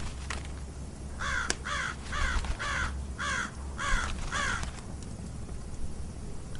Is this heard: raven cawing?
yes